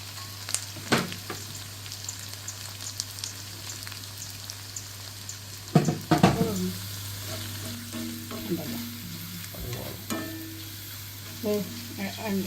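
Onions fry in hot oil, a steady sizzle broken by scattered spatula scrapes and clatters against the pan, with no talking.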